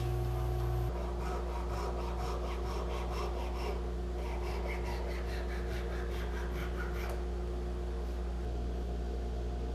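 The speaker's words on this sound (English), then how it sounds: "cut it to length with the Japanese pole saw" Japanese pole saw cutting a glued wooden bench component to length, a steady run of rasping strokes repeating close up for several seconds before stopping, over a constant background hum.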